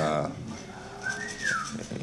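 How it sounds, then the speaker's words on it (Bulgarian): Whistling from a crowd at a Sofia boxing press event, a rising then falling whistle cutting through general hall noise and voices, with a shorter whistle earlier. "you can whistle as much as you want"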